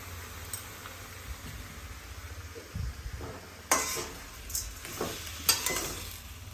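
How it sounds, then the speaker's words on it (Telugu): Tomatoes with coriander, curry leaves and salt frying in a pan for tomato chutney, a steady soft sizzle with scrapes and stirring clinks of a spoon near the end. "ఇదంతా ఫ్రై అవ్వాలి."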